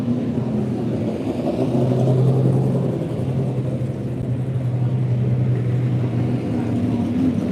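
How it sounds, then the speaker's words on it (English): Porsche race cars rumble past at the Phillip Island Festival of Motorsport, a loud continuous engine drone with a rising and falling pitch as cars pass, no talk over it. "Gonna get some Porsches coming through."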